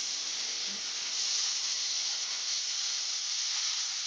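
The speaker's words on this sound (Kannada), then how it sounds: "ಬ್ರೌನ್ ಕಲರ್ ಬರುವವರೆಗೂ ಇದನ್ನು ಚೆನ್ನಾಗಿ ಫ್ರೈ ಮಾಡಿಕೊಳ್ಳಬೇಕು." Paneer pieces frying in hot ghee until browned for a dhaba-style paneer masala give off a steady, even sizzling hiss that holds at one level throughout, with no voices over it.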